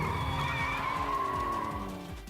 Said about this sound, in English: They are drifting.